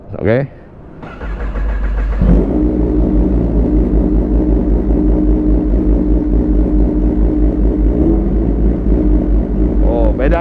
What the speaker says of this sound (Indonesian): Jadi ini suara moge.